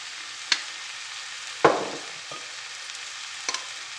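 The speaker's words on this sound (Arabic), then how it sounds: "بعد ما الكفته انتما كتشوفوا راها طابت، غادي نضيف لها شويه نتاع لاصوص صوجا" Minced meat sizzles faintly in a pan with soy sauce added, a quiet steady fry broken by a few sharp scrapes and clinks of a utensil.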